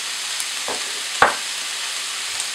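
Shallots and capsicum fry in a pan with a steady sizzling hiss, broken by a couple of sharp ticks and a brief louder stir-crackle near the middle.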